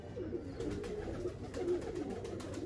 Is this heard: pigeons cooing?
yes